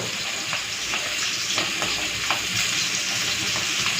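Fish frying in a pan of oil, a steady dense sizzle with scattered crackles and pops running throughout, fairly close and even in level, no voices.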